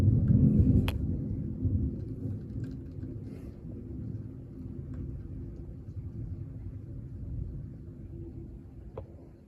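Strong thunderstorm with gusty winds, a deep continuous rumble of thunder that swells loudly at the start and then rolls on steadily, fading slightly toward the end.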